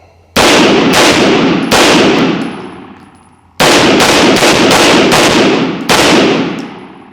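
A 2011-style pistol fires several loud, close gunshots in two quick groups, each sharp crack followed by a long ringing decay, with no talking.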